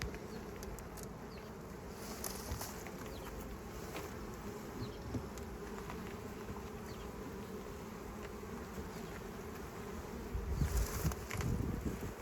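Honey bees buzz steadily around an open hive in botanical gardens, a dense continuous hum that swells briefly near the end.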